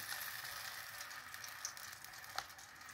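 Chili paste sizzling in a pan for a bhola fish curry, a soft steady hiss with faint crackles and a couple of small pops, heard close, with no voices.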